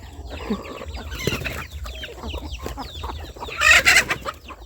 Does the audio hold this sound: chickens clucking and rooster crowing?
yes